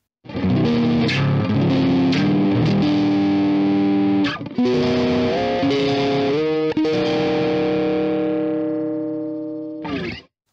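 Distorted electric guitar through an amp head without cabinet, chords and sustained notes ringing out with heavy gain, a brief pause midway, ending on a final strummed hit.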